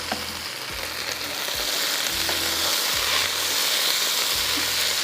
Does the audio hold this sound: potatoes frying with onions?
yes